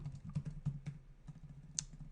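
A sticking computer keyboard typed on in short bursts of soft, close key clicks at an uneven rhythm, with one sharper tap near the end.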